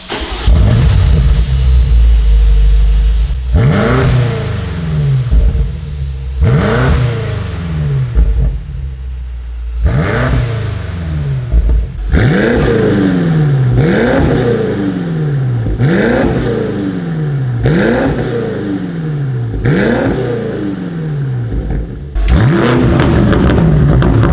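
A 2022 BMW M8 Competition engine with an Akrapovic exhaust revs repeatedly, about seven sharp throttle blips that rise and fall back to a loud, rumbling exhaust idle up close.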